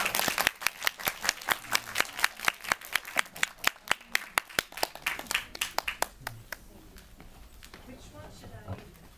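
Applause from a cinema audience at a Korean film talk event: steady, rhythmic clapping at an even beat that thins out and fades after several seconds, with voices under it.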